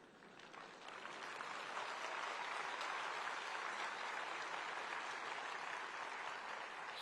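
A large audience claps in sustained, even applause at a national education event at Bharat Mandapam in Delhi, heard from a distance and lasting several seconds without talk.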